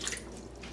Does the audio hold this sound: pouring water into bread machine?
yes